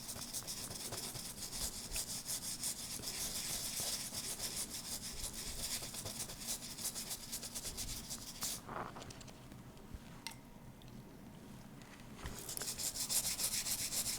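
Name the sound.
scrubbing the background of a photopolymer stamp plate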